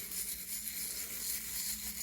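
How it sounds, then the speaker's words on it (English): A toothbrush scrubbing white cleaning paste into a surface, steady close rubbing and brushing with a continuous hissy texture. "I just use the toothbrush to just mix that white"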